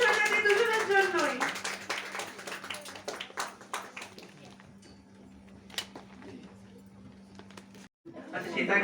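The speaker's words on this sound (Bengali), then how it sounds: "একটা জোরে হাততালি হয়ে যাক আইরিন দিয়ে শ্বেতা দিয়ে দুজনের জন্যই।" After a voice speaks, an audience at an indoor workshop event claps loudly and rapidly for several seconds; the applause thins to scattered claps and fades out before speech resumes.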